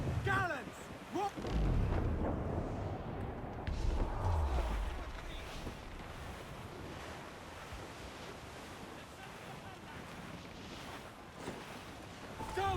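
Ship cannons firing in Assassin's Creed 4 Black Flag, a few heavy booms early on over rolling ocean waves and wind, with a crew voice shouting briefly amid the sea noise.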